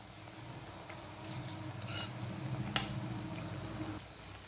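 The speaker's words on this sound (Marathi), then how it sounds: "मी आता तुम्हाला दाखवण्यासाठीच फक्त तळत आहे, नंतर या फक्त परतूनच घेणार आहे तेलामध्ये।" Quiet, steady sizzle of coriander vadi frying in hot oil, a soft continuous crackle with faint bubbling and no voices.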